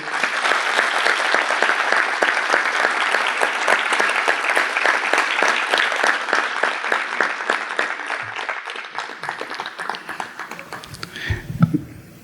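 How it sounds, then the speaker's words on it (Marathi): A large crowd claps steadily and loudly for about eleven seconds at a felicitation ceremony, the applause thinning into scattered claps near the end. "मोठ्याने टाळ्या वाजवायच्यात."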